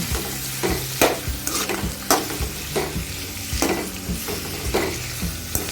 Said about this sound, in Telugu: కీర దోసకాయ వేసుకున్న తర్వాత ఒక 5 నిమిషాలు ఈ విధంగా వీటిని ఫ్రై చేసుకుందాం